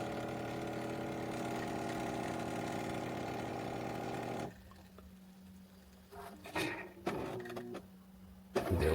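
A Jura Z10 espresso machine brewing coffee under pressure: a loud, steady pump hum and mechanical whir that cuts off abruptly, followed by quieter clicks, gurgles and a brief spurt near the end.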